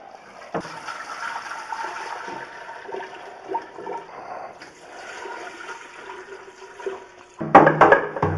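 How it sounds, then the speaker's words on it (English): Sweet tea poured into a jar holding a kombucha mother gives a steady liquid gurgle and trickle for most of the pour, then a louder, fuller splash near the end. "So I'm just pouring the sweet tea in there with the mother."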